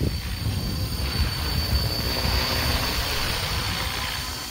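Helicopter rotor noise, a low steady whirring drone with a faint high whine above, continuous and fairly close with no voices.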